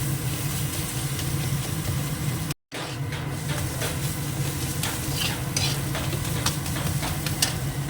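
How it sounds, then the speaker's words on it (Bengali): Spices and softened onion sautéed in oil for a mutton liver fry, a constant loud sizzle with scraping stirring strokes throughout, a brief dropout early on, no speech. "এবার সব মশলাটা একটু ভালো করে কষিয়ে নিই"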